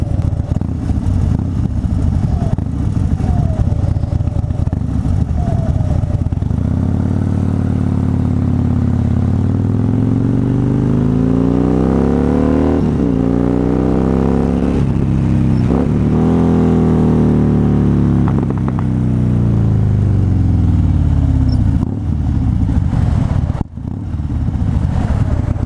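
A 2013 Harley-Davidson Fat Bob motorcycle engine, sharing the Fat Boy's motor, idles loudly up close and then revs in several rising and falling sweeps before settling back to a rumbling idle.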